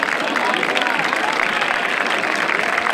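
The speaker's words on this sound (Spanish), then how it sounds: "Un aplauso grande, por favor." A gala audience at the 2017 Spanish cancer association (AECC) charity gala in Marbella breaks into applause. The clapping is dense, steady and sustained, filling the whole moment with no break.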